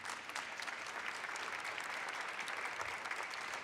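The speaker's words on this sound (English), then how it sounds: "Clap it up for the Dream Keepers Initiative." An audience at a Women's History Month ceremony in San Francisco claps steadily, a dense broad wash of applause from a crowd that holds even for a few seconds.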